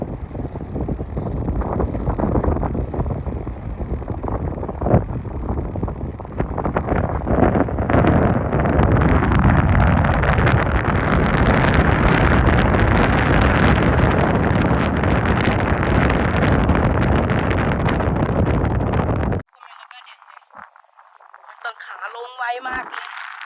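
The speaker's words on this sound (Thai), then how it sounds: "ลมแรงมากเลย" Strong wind batters the microphone on a mountain near Trollsjön lake in Kiruna, a loud, roaring gust that holds for most of the stretch before dropping off, with a person talking over it.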